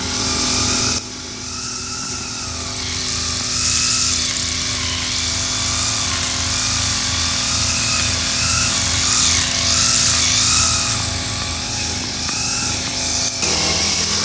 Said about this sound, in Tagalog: Habang si Bossing po ay nag-grass cutter